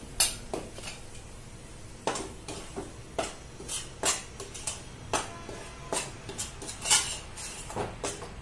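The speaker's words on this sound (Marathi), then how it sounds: "हे गव्हाचं पीठ आहे, हे आपण आता लाल सर होईपर्यंत भाजून घेणार आहोत" Wheat flour roasts in a pan for dink-methi laddu while a metal spoon stirs it, producing repeated close scraping and clinking strokes in an uneven rhythm over a dry, faint hiss, without speech.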